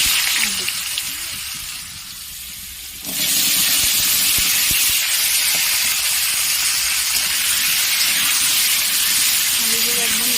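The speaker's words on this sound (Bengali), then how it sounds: "তেলটা ভালো করে গরম করে আলুগুলো ভেজে নেব।" Potatoes dropped into hot oil for a Bengali labra mixed vegetable curry, bursting into a loud steady sizzle after a quieter start, a close bright hiss that holds for the rest of the clip.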